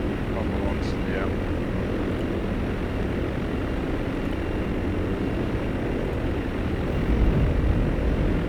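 German bomber aircraft engines in a video game drone steadily and loudly throughout, a constant propeller rumble that swells slightly near the end while people talk over it.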